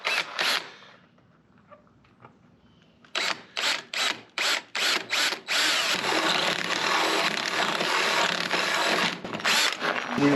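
Power drill boring through a 6x10 cargo camper trailer for a spare tire mount: two short bursts, a quiet gap, then a run of rapid trigger pulses leading into a sustained loud drilling whine close by.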